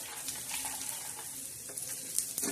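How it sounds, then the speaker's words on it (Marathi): Garlic frying in hot oil in a pan while cooking a black-masala vegetable dish, a steady close hiss of sizzling with small crackles and pops, no talking. "लसण असा छान भाजून घ्यायचा"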